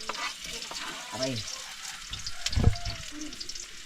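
Onion and garlic sauté in hot oil, a soft sizzle with stirring and a few clanks near the cook, with a brief spoken word over it.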